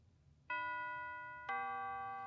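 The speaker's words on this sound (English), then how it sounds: "the final bell had rung and school was out for the day" A two-tone chime serves as the school bell in an otome video game, two clear electronic strikes about a second apart, each ringing out and slowly decaying, heard alone.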